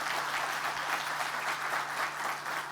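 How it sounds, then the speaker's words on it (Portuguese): Steady applause from an audience at a conference on social impact, a dense even wash of clapping that holds level for a few seconds at moderate distance. "Vou pedir uma salva de palmas para ela."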